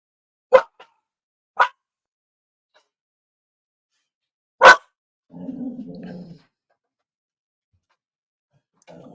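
A dog barks in short, sharp bursts: two close together, then a single loud bark after a pause, followed by a low, rumbling growl. It is heard nearby and alone, with silence between the sounds.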